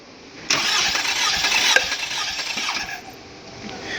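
A car engine cranks over steadily during a compression test, a loud continuous whirring starter drone that begins abruptly and runs for a few seconds before fading, with no voices.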